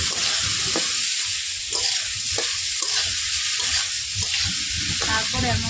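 Bamboo shoots and mustard paste with a little turmeric are stirred in a frying pan, a loud continuous sizzle broken by repeated scrapes and knocks of the spatula against the pan.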